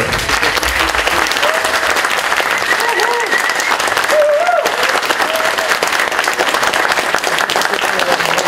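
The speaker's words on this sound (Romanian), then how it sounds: "Vă rog un ropot de aplauze!" An audience applauds at the inauguration of a cultural centre in Târgu Ocna, Romania, with steady, dense clapping sustained throughout and a few faint voices and whoops rising above it.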